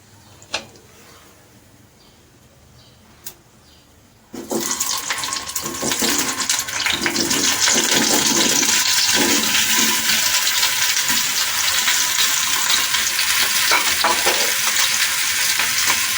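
Potatoes drop into hot spiced tempering oil: a couple of faint clicks, then a sudden loud burst of sizzling that settles into a steady, close, continuous frying hiss with occasional stirring.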